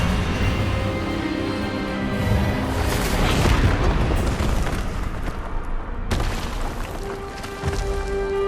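Expelliarmus spell effect in Hogwarts Legacy, a sustained roaring, rumbling magical blast that swells and then breaks off sharply near the end, loud and dense, with no talking.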